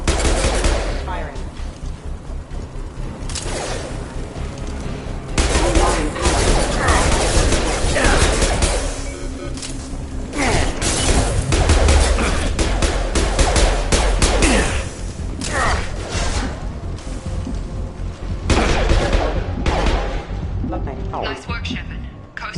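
Gunfire in the video game Mass Effect Legendary Edition, loud sustained bursts of rapid automatic shots and heavy impacts, dense and close, with game speech mixed in.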